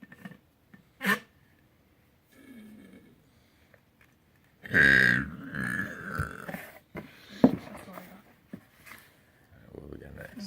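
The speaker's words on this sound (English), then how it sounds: "Can I get a burp?" A person lets out one loud, drawn-out burp partway through, set among bits of casual talk and small handling noises from an unboxing.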